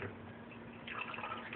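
Water poured little by little into a mixture while making ormus, a soft continuous trickle that thickens in the second half, close and fairly quiet, with no talking.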